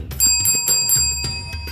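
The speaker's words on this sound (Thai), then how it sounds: "อย่าลืมกดกระดิ่งกริ๊งๆนะคะ" A bright bell-ring sound effect, the kind used for a subscribe-bell prompt, chimes several times in quick succession with clear ringing overtones, alone and fairly loud.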